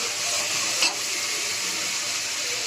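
Tomatoes for mutton biryani sautéing in a pan, giving a steady, dense sizzling hiss that stays close and even throughout, with one brief scrape of a utensil near the start and no voices.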